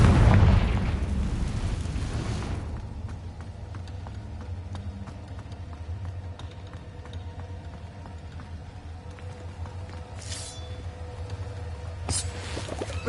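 A loud, booming Confringo explosion spell from Hogwarts Legacy opens with a heavy blast that rumbles for about two seconds, then fades into quiet game ambience with small clicks.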